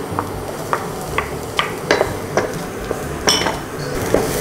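Garlic and onion sautéing in a pan for Filipino binagoongan make a faint sizzle beneath repeated sharp clinks and scrapes of a utensil against the pan, evenly spaced and close, with no talk.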